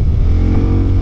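A new motorcycle's engine revs hard on the road under throttle, a loud, steady, close-up drone with a strong low growl and no talking.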